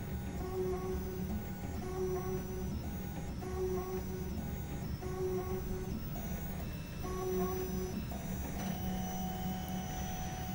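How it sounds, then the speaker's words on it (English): A ZEUS 3D printer runs its cleaning routine, wiping the nozzle across a rubber pad: steady motor whirring and repeating tonal stepper whines in short rhythmic passes, close and continuous. "it swipes its nozzle over rubber material"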